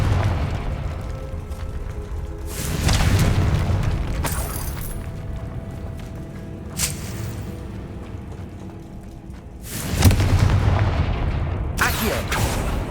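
Confringo blasting spell explosions from Hogwarts Legacy, two big booming blasts with rumbling tails, the first early and the second near the end, separated by quieter game ambience and a smaller pop.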